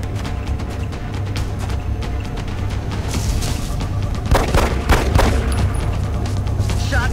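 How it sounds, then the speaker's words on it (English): Gunfire from the turn-based strategy game XCOM: Enemy Unknown: a dense volley of shots and booms swells around the middle of the clip over a constant low game hum, loud and close. "Shot failed to connect."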